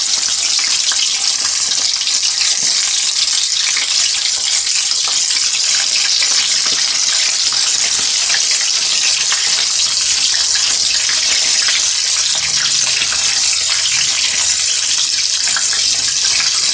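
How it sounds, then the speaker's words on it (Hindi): Chicken leg pieces drop into hot oil and fry steadily over a medium flame, giving a continuous loud hiss and crackle that fills the whole stretch with no talking. "ऑयल हमने अच्छी तरह गर्म कर लिया था, ये देखिए बिल्कुल हमने डाल दिया इससे"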